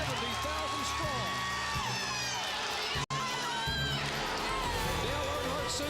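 A huge crowd of about 170,000 roars and cheers continuously at a NASCAR race as Dale Earnhardt Sr. takes the lead on the final lap, a dense, sustained wall of crowd noise with a commentator talking over it.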